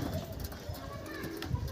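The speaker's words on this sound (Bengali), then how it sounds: "খুব ছটফটে পায়রা, খাঁচে রাখা হয় না তো" Restless Malwai pigeons kept loose in a loft coo softly in low, burbling phrases, faint and close, with light scuffling and some background voices mixed in.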